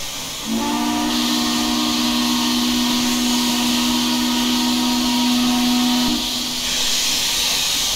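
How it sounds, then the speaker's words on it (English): Long, loud steam whistle of an ICRR 2-8-2 Mikado locomotive in Train Simulator, one sustained chord-like blast of about six seconds over a constant steam hiss. "What a phenomenal whistle."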